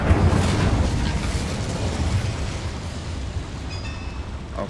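A fire spell cast in Hogwarts Legacy erupts as a loud, sustained whooshing roar of flame that slowly fades over a few seconds, with a faint high ring near the end and no voices.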